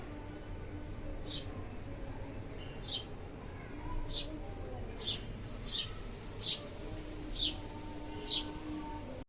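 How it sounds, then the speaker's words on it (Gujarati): A house sparrow gives short, bright chirps at fairly regular intervals of under a second, faint and a little distant over a low background hum. "ચકલી જો કેવી ચી કરે"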